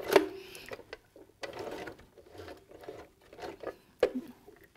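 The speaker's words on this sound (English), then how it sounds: "we're going to go ahead and stitch over that, back it up a couple of times, make sure we've got it anchored" A sewing machine stitching and backstitching elastic on a surgical face mask, with short bursts of mechanical whirring that start and stop several times close by.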